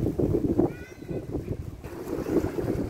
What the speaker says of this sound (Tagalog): May mga nagbo-boating na mga maliliit na bangka.